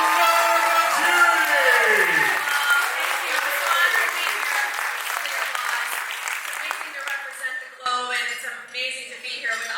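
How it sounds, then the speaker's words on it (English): A gala award show audience applauds warmly, steady crowd clapping that carries on under a voice and music, lasting throughout and thinning slightly toward the end. "Let's give a warm round of applause for Wlda."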